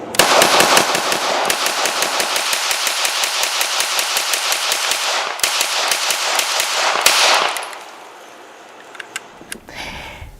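A Kriss Vector SDP pistol fires long rapid strings of 9mm shots at a shooting range, loud and close, in an even rattling rhythm that stops abruptly after about seven seconds and leaves quieter background sounds.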